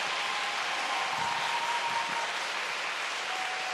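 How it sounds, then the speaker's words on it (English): Arena crowd at a figure skating championship in Tallinn applauding the men's champion, steady, dense applause that holds at an even level throughout with no pauses. "big applause to Chun Cha"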